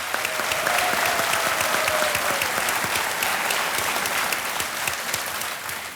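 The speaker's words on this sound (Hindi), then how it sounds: "तालियों के साथ हम इनका अभिनंदन करते हैं।" A studio audience at the TV quiz show Kaun Banega Crorepati breaks into dense, sustained applause, many hands clapping steadily and loudly before easing slightly at the end.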